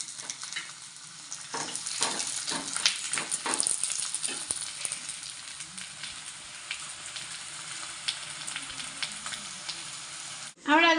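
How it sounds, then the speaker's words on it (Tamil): Homemade parotta frying in oil in a pan, a loud close sizzle with bursts of crackling and spatter that continues steadily, ending with a sudden louder noise. "மெதுவாக எண்ணெய் போட்டு தெரிச்சிக்காம மெதுவாக போட்டு எடுத்துக்கணும்"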